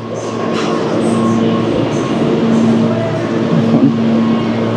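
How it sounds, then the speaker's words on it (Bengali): A New York City subway train rumbles loudly in an underground station, a steady, close roar with humming tones that lasts the whole stretch. "এই যে আমার সাবওয়ে ট্রেন, ধরে নেই।"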